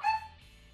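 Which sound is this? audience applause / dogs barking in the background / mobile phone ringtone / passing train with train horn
dogs barking in the background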